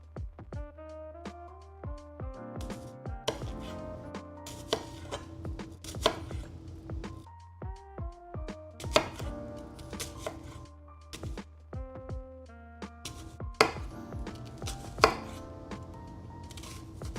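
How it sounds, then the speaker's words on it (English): Knife dicing a dense onion on a cutting board, a steady run of sharp, close chops in quick bursts with brief pauses, alone without talk. "Any like onion dicing ASMR for you guys?"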